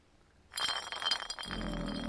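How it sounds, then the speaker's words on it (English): A glass bottle in a video game is kicked and clinks, with a sudden bright ringing clatter that continues as it rolls away, ending in a low steady rumble of ambience. "the guy kicked another bottle with the two of his boot. This time, a glass one."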